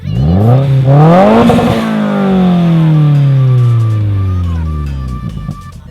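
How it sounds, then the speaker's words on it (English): A car exhaust with dual quad tips revs up loudly, rising in pitch to a roar, then slowly falls back as the engine settles, deep and close. "the exhaust tone is going to become louder and more aggressive"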